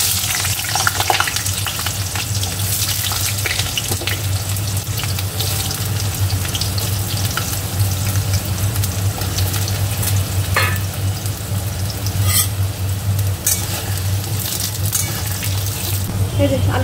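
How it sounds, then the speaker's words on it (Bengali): Washed potato pieces frying in mustard oil tempered with cardamom, cinnamon and cloves, giving a continuous close sizzle with occasional clatters of stirring. "কয়েক টুকরো আলু কেটে রেখেছি, ধুয়ে নিয়েছি, এগুলো ভেজে ভাজা ভাজা করে নেব"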